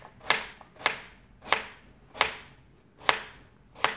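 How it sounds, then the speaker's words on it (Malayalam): A knife chops raw plantain into thin slices on a board, six crisp, evenly spaced cuts ringing out up close, each with a short decaying tail, in a quiet kitchen with no talking. "ഇങ്ങനെ വണ്ണം കുറച്ചിട്ടാണ് അരിയുക."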